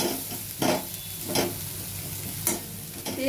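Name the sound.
paneer korma masala frying until oil separates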